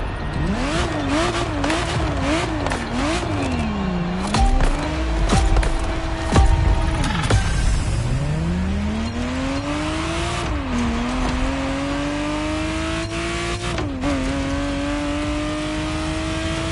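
A Ferrari Testarossa driving in the racing game The Crew Motorfest, its engine revving up and down through gear changes with rising pitch sweeps, steady and close, with no talking.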